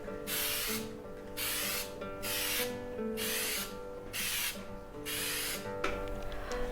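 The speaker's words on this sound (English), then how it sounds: "When you spray, don't spray too close, or else the paint starts to run." Spray paint hisses from a can onto wood in regular bursts, each about half a second to a second long, with brief pauses between them. Close and steady, with a faint musical bed underneath.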